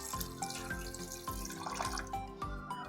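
Tap water runs and splashes into a pan, about a quarter cup poured for a gravy-style surmai fish curry, with small drips and steady trickling close by and no talking.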